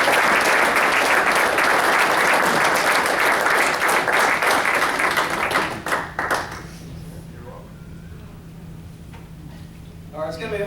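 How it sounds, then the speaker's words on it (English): A crowd claps loudly and steadily for several seconds, then the applause fades out, leaving a quieter room with a faint hum. "So welcome our head coach, Vinay Patel."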